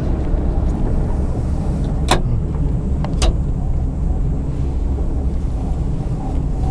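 Wind rushes steadily against a closed vehicle travelling on a trip to Taif, a loud, unbroken roar with two sharp clicks partway through and no talking.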